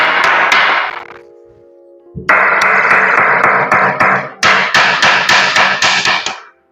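Hammer strikes during cupboard framing with plywood partitions, loud and close: a quick burst of blows, a pause, then two steady runs of regular, ringing knocks.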